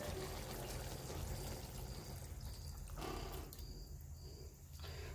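Water is poured into a homemade black-masala soybean chunk curry, a steady rushing pour that breaks off and resumes against a low background rumble.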